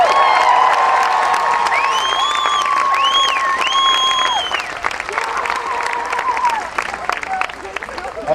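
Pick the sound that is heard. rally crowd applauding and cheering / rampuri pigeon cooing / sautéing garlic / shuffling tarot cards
rally crowd applauding and cheering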